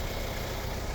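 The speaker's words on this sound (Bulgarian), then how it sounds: "Отвън пак може да видите. Може да чуете мотора как работи." A Platinum Edition car with 153,000 km, in very good condition, sits with its engine idling: a steady, even, close rumble with no talk over it.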